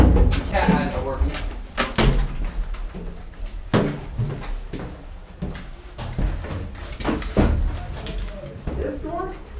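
Doors are opened and shut several times inside an abandoned building during a maritime military-simulation game, giving sharp knocks and thuds amid near constant talk from several people.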